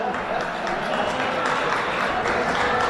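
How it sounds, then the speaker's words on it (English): Steady applause fills a legislative chamber on the floor of a state Assembly, a dense wash of clapping from many members held at an even, fairly loud level throughout. "Members, please no applause."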